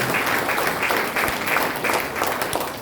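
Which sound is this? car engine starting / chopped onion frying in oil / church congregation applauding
church congregation applauding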